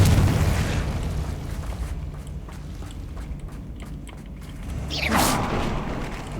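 A fire spell being cast in Hogwarts Legacy: a loud burst at the start, then a quieter stretch and a second whooshing flare near the end, with no talking.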